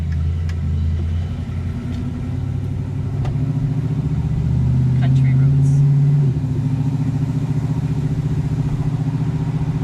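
A 1967 Mercury Cougar XR-7 muscle car engine runs steadily up close with a deep low rumble, swelling briefly as it revs before settling back, while people talk over it inside the car.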